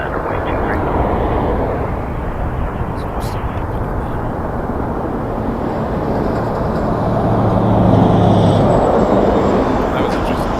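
An airliner rolls along the runway at Toronto Pearson Airport, a loud, steady engine roar close by that swells toward the end, with speech and radio chatter over it.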